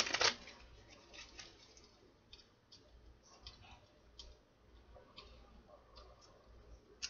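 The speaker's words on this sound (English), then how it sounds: "One more shuffle." Tarot cards being shuffled by hand in a quiet room: a sharp riffle at the start, then faint, scattered soft card taps and slides at a low level.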